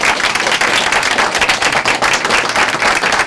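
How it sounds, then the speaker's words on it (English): An audience at a KOGO radio Republican U.S. Senate debate gives Rocky Chavez a loud, sustained round of dense clapping, close and continuous with no voices over it. "Let's give a round of applause to Rocky Chavez for his service"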